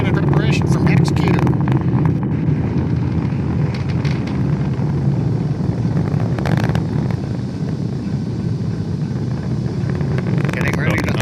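A SpaceX Falcon 9 rocket climbs during launch, its engines a dense, steady roar mixed with wind-like rumble, with a few brief bursts of crackle over the continuous noise.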